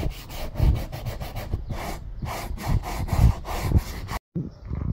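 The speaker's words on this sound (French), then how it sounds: "on prend une brosse et on frotte" A brush scrubs the roof liner grooves of a Mercedes 250 in close, rhythmic back-and-forth strokes, loud and rasping, with a short pause near the end, and no speech.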